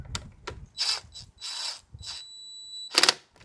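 A ratchet slowly tightens the plastic-mounted auxiliary battery hold-down on a Jeep JL, giving short separate bursts of clicking with brief pauses between them, close and fairly loud.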